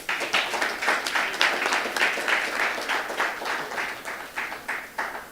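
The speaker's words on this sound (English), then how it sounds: "That clap was too high." Audience members at a roundtable discussion on coalition government clap in a fairly steady rhythm, bright and close, with each clap distinct and no talking over it.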